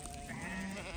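A flock of sheep comes in for its weekly salt, steady overlapping bleats near and far filling the short moment, with no talk.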